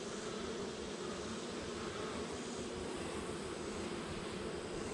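A steady, dense droning buzz of many honeybees humming close by while honey frames are pulled, filling the whole stretch with no pauses or voices.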